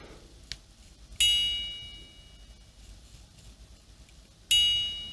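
A handmade mechanical watch strikes two bright, ringing chimes, the second about three seconds after the first, each decaying slowly, with a faint tick before and quiet room sound between.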